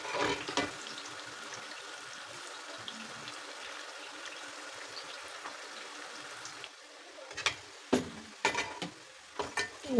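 Sliced sweet potatoes frying in hot oil, a steady soft crackle and fizz that runs throughout, with a few louder clinks and pops near the end.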